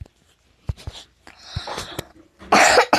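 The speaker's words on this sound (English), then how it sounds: "That was a sneeze, not a cough." A single person sneezes with an explosive, noisy burst near the end, loud and close, preceded by small sniffs and breaths.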